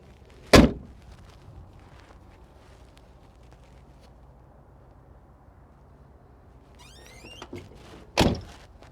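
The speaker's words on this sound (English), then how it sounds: "this right here is how you lock the back doors. You push these down and that locks them" Door hardware on a 1962 Chrysler Newport with manual roll-up windows: a sharp thunk near the start, then a quieter stretch and a pair of clicks and thuds near the end as the rear door lock buttons are pushed down.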